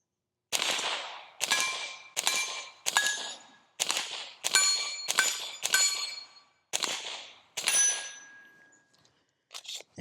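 A suppressed Ruger Mark IV 22/45 Lite fires CCI subsonic 40-grain hollow-point rounds at a steel target, about ten quiet shots in a loose rhythm, each followed by a bright metallic ring from the hit plate, with brief silences between.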